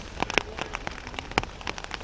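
Rain falling on surfaces at a baseball game between Israel and the Netherlands, a steady patter with scattered louder drops ticking nearby, no talk over it.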